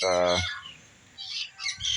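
Shrill, squawky chirps from young chicks nearby on a ranch, a loud call followed by a pause and a few more rapid chirps.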